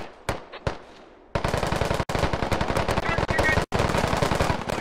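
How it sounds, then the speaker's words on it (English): Rapid bursts of automatic gunfire in the video game SquadOps, loud and continuous, with a few brief pauses and scattered single shots at the start. "What's all that gunfire?"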